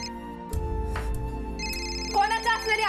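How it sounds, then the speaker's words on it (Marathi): A mobile phone ringtone starts partway through, a loud, warbling melodic tone that keeps repeating over talking and room noise. "तो फोन बघ आधी कोणाचा आहे ते."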